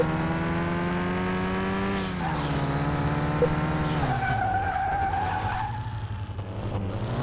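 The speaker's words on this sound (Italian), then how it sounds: "Test accelerazione" A car in Car Mechanic Simulator 2021 during an acceleration test, its engine droning loudly and steadily climbing in pitch through several gear changes, close and alone.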